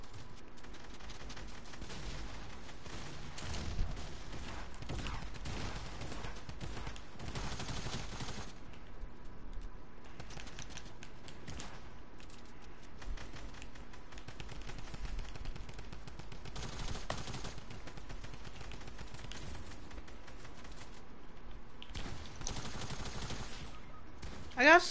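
Sniper and other gunfire crackles through a Fortnite duos match, repeated bursts of shots near and far over a constant game-noise bed, with players talking throughout.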